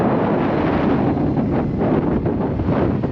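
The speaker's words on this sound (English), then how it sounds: "It is gusty. It is really gusty." Gusty wind blows across an outdoor field, a loud, constant rushing buffet against the microphone with rumbling low-end surges and no talking.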